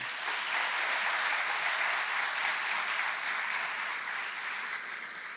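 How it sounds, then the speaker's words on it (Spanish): Sustained applause from a large audience, loud and even, easing slightly toward the end. "Para ellas pido un fuerte aplauso."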